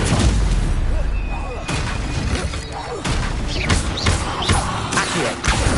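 A Stupefy spell cast in Hogwarts Legacy, loud booming thuds and impact hits in dense, busy game combat, with other spell effects going off around it.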